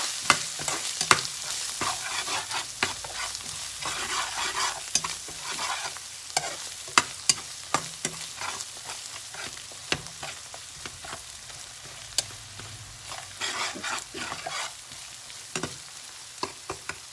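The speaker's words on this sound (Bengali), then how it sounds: "একটু ভাজা ভাজা হওয়ার জন্য অপেক্ষা করতেছি আমি" Spices frying in oil for chicken curry, with steady sizzling and repeated scraping stirs of a spoon in the pan, close and continuous with no talk.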